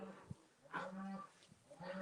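Calves on a beef farm let out low, soft moos and bleats, with a few short calls spaced apart, faint and close-ish against a quiet barn background.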